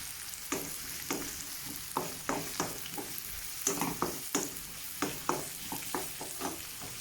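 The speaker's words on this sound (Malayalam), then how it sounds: "ഹൈ ഫ്ലെയിമിൽ തന്നെ വെച്ച് ഇളക്കി കൊടുക്കുക." Carrots and beans stir-frying over a high flame in a pan for fried rice, with a steady sizzle under repeated close scraping strokes of a spatula in an even rhythm.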